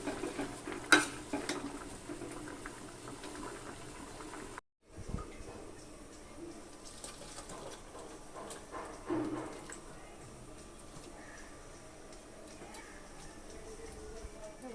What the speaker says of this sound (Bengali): এবার আমি এটাকে একটু নেড়ে চেড়ে এটাকে নামিয়ে নিব